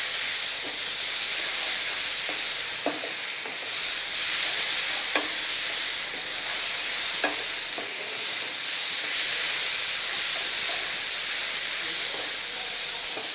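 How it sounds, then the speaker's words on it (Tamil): Tomatoes for egg masala sizzle and sauté in a pan, a continuous bright frying hiss broken by scattered spatula scrapes and stirring taps, with no talking. "இப்போ இந்த டொமேட்டோஸ் வந்து நல்லா மேஷ் ஆகிற வரையும் இதிலே நீங்கள் வந்து நல்லா சாத்தே பண்ணணும்னு வச்சுங்க"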